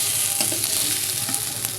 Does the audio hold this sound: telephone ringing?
no